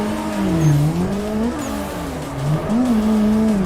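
Car drifting with alternating handbrake pulls in a racing video game on a mountain touge course, a loud continuous engine note rising and falling in pitch with revs, with faint tire noise underneath and no talking.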